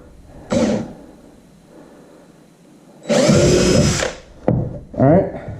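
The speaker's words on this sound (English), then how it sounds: "So I'm going to do is drill a hole here." A power drill with a 5/32 drill bit bores a hole while mounting a Minn Kota heading sensor puck on an Old Town Sportsman kayak, short loud bursts of whirring separated by pauses, with someone talking between the bursts.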